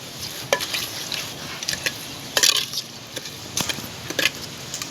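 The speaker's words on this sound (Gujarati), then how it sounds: "કાંદા નખાય એટલે હલાવી નાખવાનું છે આવી રીતે." Scraping, clattering stirring of onions in a clay pot, with sharp irregular bursts over a faint background sizzle, close by.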